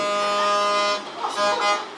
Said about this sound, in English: Honking a horn.